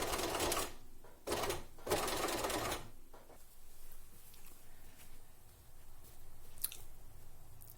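Sewing machine stitching a gathered seam and finishing with a backstitch, fast mechanical whirring in three short bursts over the first three seconds, then quieter handling rustles and small clicks.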